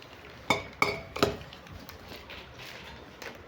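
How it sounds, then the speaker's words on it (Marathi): A new 5-litre stainless steel pressure cooker handled during unboxing gives three sharp metallic clinks close together in the first second, then quieter faint knocks and handling noise. "अनबॉक्सिंग झालेली आहे आणि कुकर हे एकदम मस्त आलेला आहे. काढून लावा, भरपूर जड आहे"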